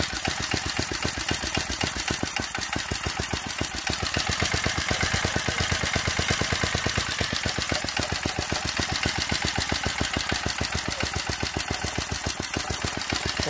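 A Briggs and Stratton 4hp tiller engine runs steadily after repair, a rapid, even single-cylinder putter with dense regular firing pulses, close and constant throughout with no voices.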